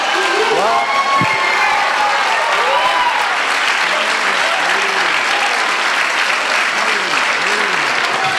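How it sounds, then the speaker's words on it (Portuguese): A standing church congregation applauds loudly and steadily throughout, a dense wash of clapping with a preacher's voice and sung or shouted phrases rising and falling over it. "Fica de pé, aplaude de pé."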